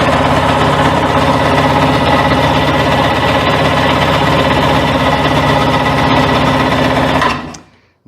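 A Sea-Doo engine with the choke on cranks continuously without catching, a loud, even, rapid churning whir for about seven seconds before it cuts off abruptly.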